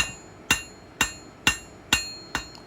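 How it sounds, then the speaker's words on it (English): Forging hammer working the edges of a hot metal leaf, five crisp metallic blows in quick steady rhythm with a faint sixth at the end, close and ringing, no voices. "Working my hammer around the edges,"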